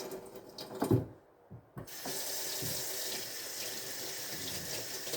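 Hot water runs from a kitchen sink tap during one-handed dishwashing, a steady loud rushing stream after a brief pause and a couple of knocks.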